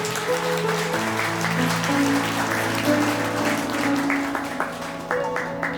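Wedding guests in a convention hall applaud the bride and groom, steady clapping running throughout over a sustained musical backdrop, with a few sharper claps standing out toward the end.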